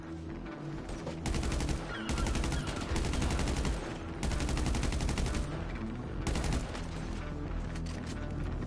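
Rapid automatic gunfire in GTA V, dense bursts of shots that rattle on almost continuously for several seconds, loud and close with brief gaps between volleys.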